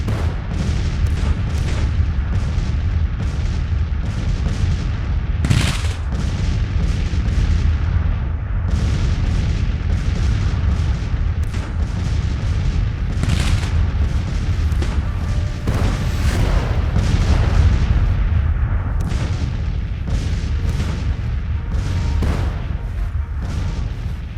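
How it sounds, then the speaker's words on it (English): Artillery fire in the Civil War strategy video game Grand Tactician: a continuous barrage of booming cannon shots at irregular intervals, some sharp and close, over a dense rumbling battle din. "And our artillery is just pounding them."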